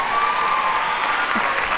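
At an R&B awards ceremony, a crowd applauds the award winner's father: steady, thick clapping with faint cheering that holds at an even level throughout, with no voices on top.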